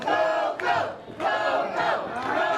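A Halloween competition crowd cheers and chants loudly on a chilly night outdoors, voices swelling in repeated bursts that rise and fall with brief dips between them.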